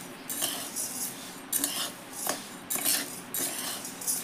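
Sattu flour being stirred while it roasts in a pan, heard as several separate scraping strokes of a utensil against the metal in an uneven rhythm, close and fairly quiet, with no talking.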